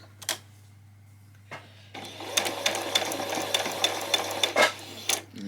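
A sewing machine stitches across the end of a fabric headband in short close bursts with brief pauses between runs, and a few light handling knocks of the fabric.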